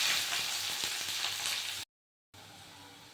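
Chopped onion sizzling in hot oil with a bay leaf and cardamom in a kadai, a loud crackling hiss with sharp pops, broken by a short silence before a softer sizzle resumes.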